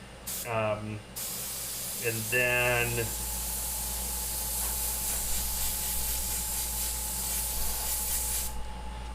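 Airbrush spraying Createx Autoborne sealer, tinted black with a little green, onto a skull: a steady, close, continuous hiss that runs for several seconds after a brief stretch of talking at the start.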